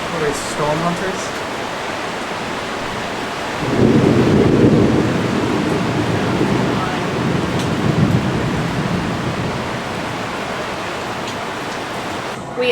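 A thunderstorm in Cambodia brings steady heavy rain hissing loudly, then a long, low roll of thunder rumbles in and lingers for several seconds; a voice speaks faintly near the start.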